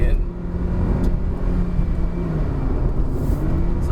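Proton Saga 2019 engine pulling in second gear on the Genting hill climb, a steady, loud low-pitched drone with a slight rise and fall in pitch, heard from inside the car.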